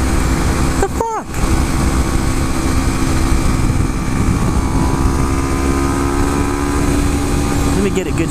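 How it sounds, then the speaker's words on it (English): Kawasaki Ninja 300 small sportbike engine droning steadily throughout while riding in traffic, a loud continuous buzz with a brief swooping pass near the start and a voice speaking over it. "the Ninja 300 engine is fucking kick-ass, but it sounds like a budget learner bike"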